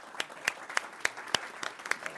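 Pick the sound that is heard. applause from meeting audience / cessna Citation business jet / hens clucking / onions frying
applause from meeting audience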